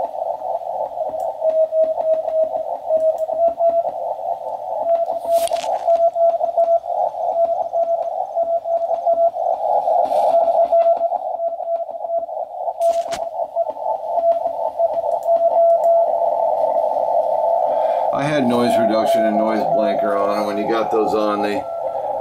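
CW Morse code signals received on an SDR-1 radio receiver in CW mode sound as a steady, continuous tone with a hiss of band noise, shifting pitch and breaking into distorted tuning sweeps near the end.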